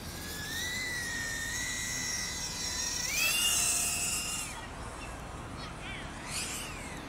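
Small FPV drone on 1104 7500kv motors and a 3S 550 battery makes a full-speed pass, a high whining motor tone rising and falling in pitch as it sweeps by, loud and fairly close.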